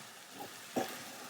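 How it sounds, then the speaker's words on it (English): Potato and pea samosa filling is stirred in a pan, with two soft scraping strokes of the spoon over a quiet, low simmering background. "I'm going to turn it down and keep stirring so the whole dish can come together"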